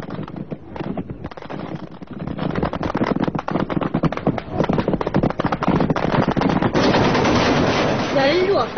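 Heavy gunfire from soldiers and shipboard weapons in the 1988 Spratly Islands clash between China and Vietnam: dense, loud, continuous rapid bursts of automatic fire overlapping for the whole stretch.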